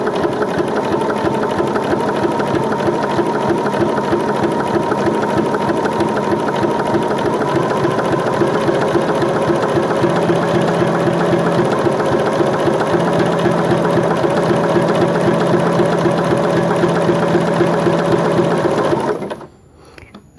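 A sewing machine stitches a zigzag appliqué in one long, steady run, its rapid mechanical whir close and continuous before cutting off abruptly near the end.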